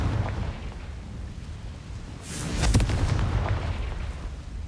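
A Confringo spell explodes in the Hogwarts Legacy video game, a booming blast with a sharp crackling burst near the middle over a rumbling game soundscape, fairly loud with no talking.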